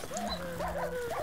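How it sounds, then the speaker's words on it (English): A dog in a video game whimpers and whines in short, wavering, high cries, a few repeated bursts over a low steady tone, fairly faint and without speech. "Oh, poor dog, he's like trying to get in the corner."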